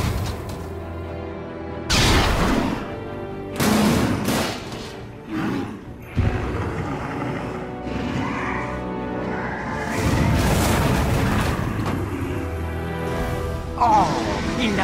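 Artillery blasts and explosions in a Batman versus Penguin fight, loud booms and bursts of gunfire going off repeatedly, with a voice speaking over the din.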